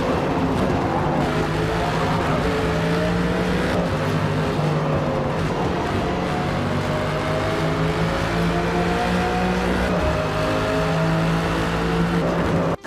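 Mercedes race car engine on the Yas Marina circuit in Forza Motorsport, a steady loud engine drone with rising gear-change sweeps and repeated revving, running continuously and close throughout with no talk.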